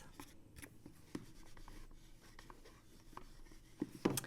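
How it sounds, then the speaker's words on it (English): A bone folder rubs and presses along the glued, reinforced edge of a small folded paper candy box, giving faint, close scratchy strokes with a few firmer taps near the end. "I'll just come in with my bone folder"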